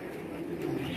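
A prized banded pigeon gives a low, soft, rolling coo, close by and short, set against faint background noise.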